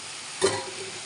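A spoon stirs an eggplant and green pea curry in a pan, making one brief scraping stir over a constant soft sizzle. The sound is close and short.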